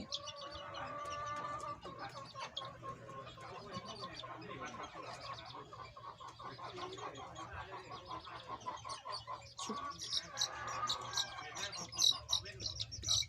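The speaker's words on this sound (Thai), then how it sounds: "เป็นลูกไก่แจ้นะครับ ลูกไก่แจ้ กำลังน่ารัก" Bantam chicks peep and chirp in short, repeated calls during a Newcastle disease vaccination, close by and fairly clear, with someone talking over them throughout.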